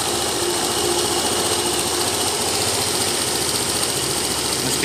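A Kymco Super 8 scooter with a GY6 engine, its idle once unstable and now smoother after a vacuum line was rerouted, idles close up in a steady, even, ticking putter throughout.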